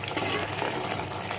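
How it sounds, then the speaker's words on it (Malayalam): First coconut milk is poured steadily into a thickened Kerala banana payasam of plantain pradhaman, giving a continuous close liquid pour with a soft, constant wash of sound. "നമുക്കിതിലോട്ട് 1-ാം പാൽ ഒഴിച്ചു കൊടുക്കാം."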